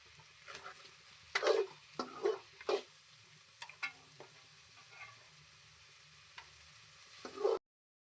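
Egg masala stirred and frying on a tava in a home kitchen, with quiet sizzling under a series of soft scraping and stirring knocks, louder clusters near the start and just before the end.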